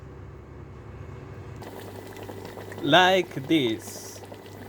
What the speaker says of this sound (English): When the oil is very hot, we pour the dough that we had prepared